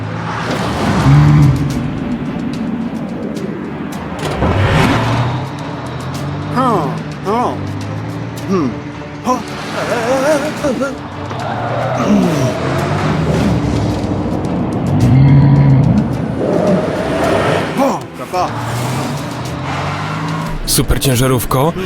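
A cartoon car races fast with revving engine and squealing tires, loud and close, with repeated surges under animated voices and music.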